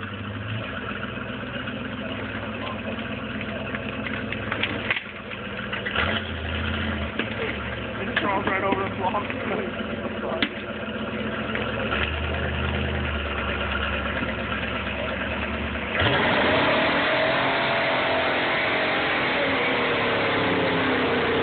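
A Chevy 454 big-block V8 rumbles at idle and is blipped into short revs, ending in a sustained higher roar, with voices talking nearby over the engine.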